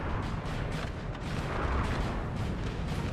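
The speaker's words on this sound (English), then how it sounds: "Artillery, I can hear them." Artillery fires in a Napoleon Total War battle, with repeated distant booms and cannon blasts rolling over a dense, continuous rumble of battlefield noise.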